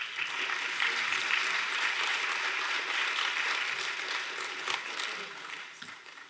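An audience applauds an award recipient at the Carol Hollenshead Inspire Award ceremony for equity and social change, a steady, dense wash of clapping that holds for several seconds before tapering slightly at the end.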